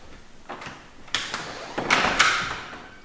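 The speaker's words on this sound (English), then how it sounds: "I'm going to close the door" A BMW X3 M40i's car door is swung shut with a few soft knocks and rattles followed by a firm thud, then a brief sliding clatter, nearby and fairly quiet.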